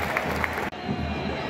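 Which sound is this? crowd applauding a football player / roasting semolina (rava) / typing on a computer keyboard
crowd applauding a football player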